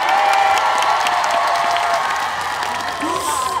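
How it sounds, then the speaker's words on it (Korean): Festival audience at an outdoor concert in Bonghwa applauding and cheering, a dense steady wash of clapping with some whoops, with music or singing tones carrying through. "그렇다면 박수가 나와야 되는데"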